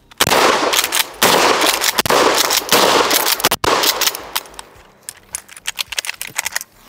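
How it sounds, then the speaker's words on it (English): A Maverick 88 Cruiser pump shotgun fires Remington shells. About five loud, close blasts come roughly a second apart, each with a short decay, followed by quieter clicks and rattles of the action. "we're gonna shoot a couple of those and it won't be as painful"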